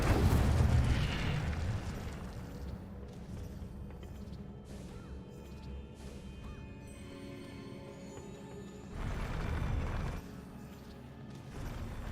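Incendio fire spell cast in the video game Hogwarts Legacy: a loud, rumbling burst of flame, then a sustained roar with a second surge near the end, and no talk over it.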